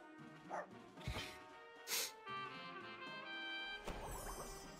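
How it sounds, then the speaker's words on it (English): World of Warcraft pet battle attacks, a blazing yip and a super bark, burst out as a few sharp, separate dog-like yips and barks with crashing impact hits between them, standing alone over a quiet game backdrop. "we'll start with a nice blazing yip, and then hit him with the super bark"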